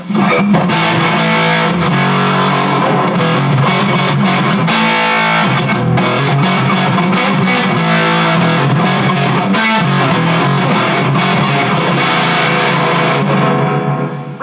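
Loud, heavily distorted electric guitar played through an overdriven Tweedle Dee amp with gain turned up, chords and riffs ringing continuously with a slight pause midway.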